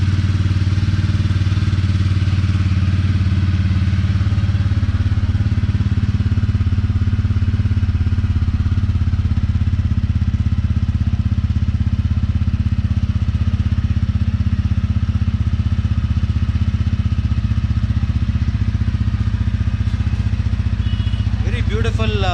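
A TVS Ronin motorcycle engine runs at a steady idle after a silent start, a close, continuous mid-pitched rumble with a faint clatter, under someone talking.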